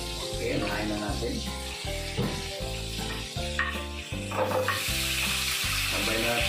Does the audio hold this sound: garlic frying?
yes